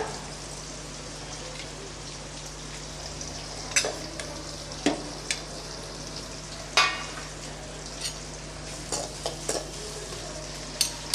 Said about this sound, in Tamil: வெங்காயம் ஓரளவுக்கு நல்லா வதங்கிடுச்சு இதில் கொஞ்சம் கருவேப்பிலை